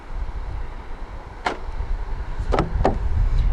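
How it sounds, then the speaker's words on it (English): Keyless locking of a 2019 Audi A4 Avant 40 TDI quattro sport by pressing the door handle, heard as a sharp mechanical lock click followed by a couple of quick clacks against low outdoor background noise. "To lock the car, press the indentation on any of the 4 door handles."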